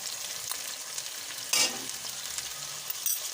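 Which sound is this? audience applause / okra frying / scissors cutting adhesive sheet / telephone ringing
okra frying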